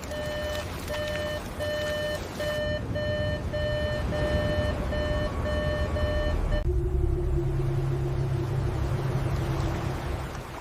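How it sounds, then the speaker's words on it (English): Electronic alarms sounding in repeated steady beeping tones over a deep continuous rumble, then giving way to a lower droning hum and noisy wash. "Above the waves, alarms began to sound."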